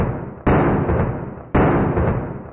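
Midday cannon firing: two loud, sharp booms about a second apart, each with a rolling echo that slowly decays, heard without voices.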